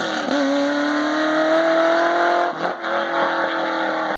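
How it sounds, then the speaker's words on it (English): LS7 V8, the American muscle engine from the C6 Z06, swapped into a 997 Porsche with 180-degree headers, revving hard and holding a high rasping howl, with a quick throttle lift and dip before climbing again. "So here is an LS7 swapped 997 Porsche, which is already very interesting, with 180-degree headers."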